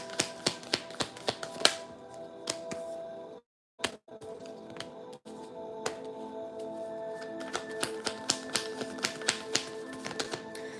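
A rapid run of crisp clicks and snaps, like cards being riffled and bridged, with a brief silent break partway through, close and fairly quiet.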